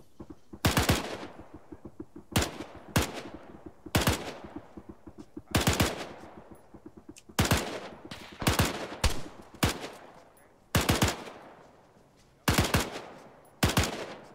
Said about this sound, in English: You have the Bren. Take it. Put it. And shoot it.